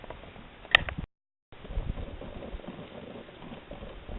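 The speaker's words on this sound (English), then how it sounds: "It took a bit of work with this little wood stove, but there it is. Coffee's perking away." Coffee perking in a pot on a small wood stove outdoors by a lake, a soft continuous bubbling and gurgling with one brief sharp click near the start, close and fairly quiet.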